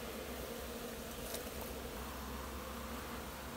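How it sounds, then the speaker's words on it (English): A mass of honey bees hums in a faint, steady, continuous drone with no talking. "there's a lot of bees here"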